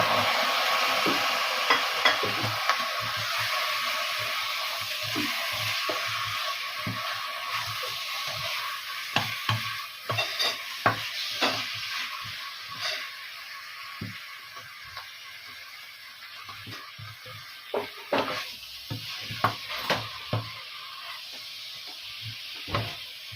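Chicken sautéing in a hot pan, a continuous sizzle and hiss with frequent clinks and scrapes of a spatula stirring against the metal, fairly close and steady throughout with no talking.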